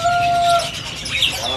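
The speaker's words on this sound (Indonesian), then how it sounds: "Ini di atas ada kenari apa nih, Mas?" A canary sings at a bird-selling kiosk, giving bright high chirps and short trills over a busy market background with no talk.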